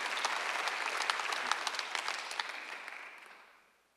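A church congregation claps together in a steady burst of applause that tapers off and fades out over a few seconds.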